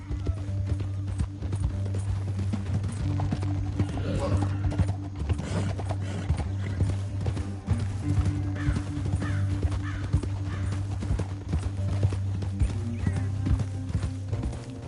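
Horse hooves clip-clop steadily in a canyon in an old Western film, a continuous rhythmic clatter beneath a low droning score, with no talk over it.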